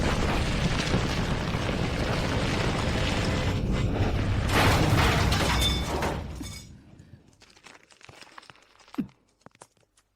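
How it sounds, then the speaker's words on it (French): A loud, sustained explosion roar with crackling debris fills the first six seconds, then fades into scattered clatter and a single sharp knock near the end, with no talking. "Pourquoi y a-t-il une explosion?"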